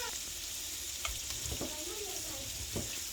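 Shrimp frying in a pan with spices just added for a quick shrimp biryani, a steady hiss of sizzling oil with a few soft stirring knocks, continuous and close.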